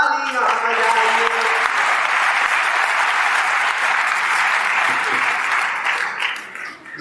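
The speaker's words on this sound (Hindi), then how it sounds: "एक बार जोरदार तालियां बजाइए" Loud, sustained applause from an audience at a Hindi comedy and satire poetry recital, a dense continuous roar of clapping that holds steady and tapers slightly at the end.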